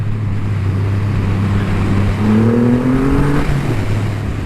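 A Triumph Rocket III GT, a 2500cc 167 hp motorcycle, pulls hard on a winding road, its engine note climbing in rising tones under steady rushing wind noise, near and loud without talk.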